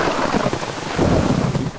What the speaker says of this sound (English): if you can hear me over the rain